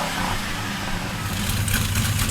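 American muscle car exhaust revving, played back through a monitor speaker, comes across as a rough, moderately quiet engine rumble that swells slightly toward the end.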